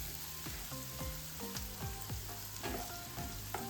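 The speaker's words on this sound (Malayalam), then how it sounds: "നന്നായി ഇളക്കി കൊടുക്കാം." A spoon stirs pasta sauce with salt and seasonings in a pan, scraping in a steady rhythm of about six strokes over a continuous soft sizzle, close and quiet, with no talking.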